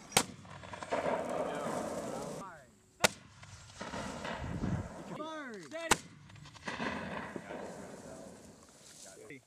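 U.S. Marines live-firing an M224 60mm lightweight mortar at a range: sharp, loud launch reports at intervals over steady outdoor rumble and wind, with voices calling out between shots.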